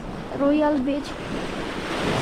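Ocean surf on Long Beach, Koh Rong, Cambodia rolls in as a broad, steady wash with wind rumble, while a voice briefly speaks over it near the start.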